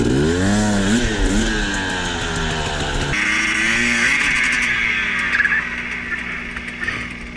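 A 250 dirt bike engine revs and bogs as the rider tries to climb a steep, slippery lip on singletrack, its pitch rising and falling loudly before settling into a lower idle with clattering.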